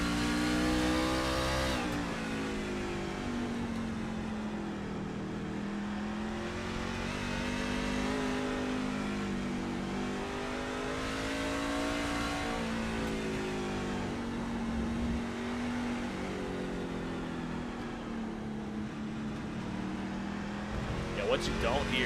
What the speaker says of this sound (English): You hear very purposeful throttle presses and brake.